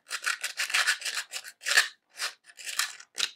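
Sandpaper rubbed by hand over a costume armor part for an ARC Trooper build, a series of close, dry rasping strokes in quick uneven bursts with short pauses between them.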